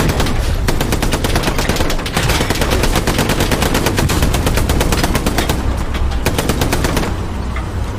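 Rapid, sustained machine-gun bursts rattle almost nonstop from Hell Let Loose, the WWII shooter, during a heated tank and infantry battle at Carentan; loud and close, with dense overlapping volleys and no talking.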